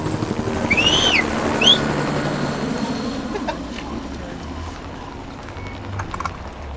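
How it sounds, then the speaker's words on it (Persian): A helicopter flies over forested country, its rotor and engine drone loud at first and then fading gradually as it moves away, with faint bird calls early on. "این هلیکوپتره قرار بره نقطه جنگلی ها رو ببیته."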